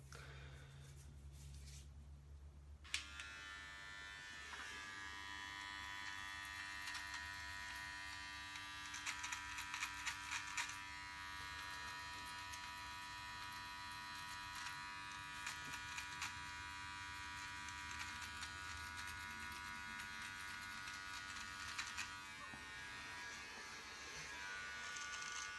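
A high-quality electric beard trimmer buzzes steadily as it cuts a short 3mm beard, a continuous close motor whine with slight pitch shifts and crackles as it moves across the stubble.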